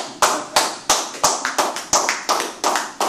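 A church congregation clapping in unison to acclaim Jesus: loud, close, evenly spaced hand claps, about three per second, in a steady rhythmic beat.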